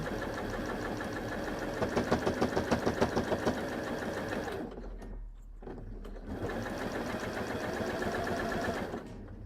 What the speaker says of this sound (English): you're going to stitch all the way along that fold, sewing the handles down